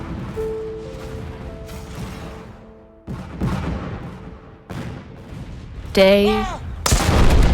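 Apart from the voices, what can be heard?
artillery bombardment of Vicksburg sound effect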